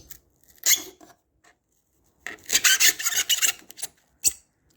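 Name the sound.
rasp shaving through expanding foam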